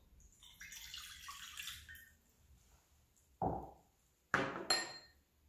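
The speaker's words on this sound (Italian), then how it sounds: "Iniziamo a preparare l'impasto in ciotola versando l'acqua." Water is poured into a bowl to start a vegan croissant dough, heard as a few short, close splashing bursts separated by quiet gaps.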